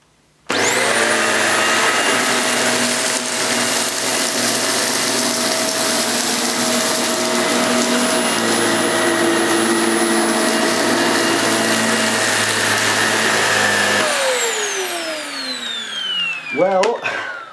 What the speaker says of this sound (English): I'm going to pass the Vax Air3 Total Home forward and back through the middle of this mess